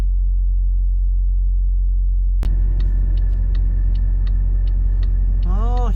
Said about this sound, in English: I'm gonna fire up the truck now and warm it up